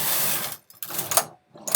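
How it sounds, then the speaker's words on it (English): A knitting machine carriage slides across the needle bed knitting rows, producing close, rasping mechanical swishes in short bursts separated by brief pauses. "So I'm going to knit a few more rows."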